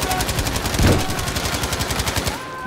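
Rapid automatic gunfire in the Battlefield V video game, a loud, close, continuous burst of evenly spaced shots with one heavier blast early on, cutting off near the end.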